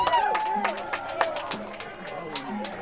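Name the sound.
baseball crowd cheering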